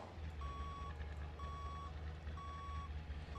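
A truck in Grand Truck Simulator reverses with evenly spaced electronic beeps, three clear tones about a second apart, over a steady low engine rumble.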